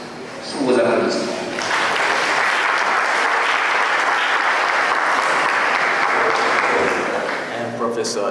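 Sustained audience applause at an academic festival conference in a university faculty, starting with a swell then holding steady and loud for several seconds before easing slightly at the end.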